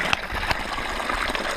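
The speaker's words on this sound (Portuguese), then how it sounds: "abastecer um bidão." Water running steadily from a mountain fountain into a cycling bottle, a continuous close gush and splash with small rises in level, heard alone during a road ride in the Serra da Estrela.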